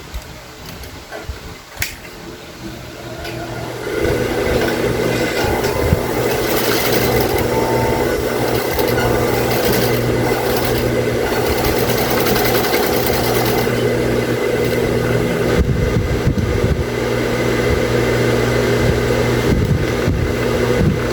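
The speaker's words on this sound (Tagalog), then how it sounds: "tatahiin natin dito sa side" A sewing machine stitches along the side seam of school uniform shorts, a steady close whirring hum that runs continuously for most of the stretch after a quieter start with a few small clicks.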